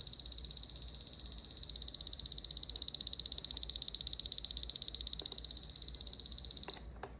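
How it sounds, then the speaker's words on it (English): A 1990s RadioShack Rise'n Shine alarm clock rings with a steady high electronic beeping tone. The tone pulses rapidly and runs continuously for several seconds, close and moderately loud, then cuts off with a couple of faint clicks. "That's what the alarm sounds like."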